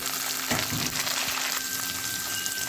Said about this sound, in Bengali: এবারে কেটে রাখা টমেটো দেব